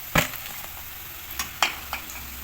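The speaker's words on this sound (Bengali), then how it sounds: "এভাবে লাল লাল করে সব কটা চপ আমি ভেজে নেব।" Vegetable chops made with winter vegetables deep-fry in hot oil with a soft, steady sizzle, broken by a few sharp crackles and pops; no one speaks.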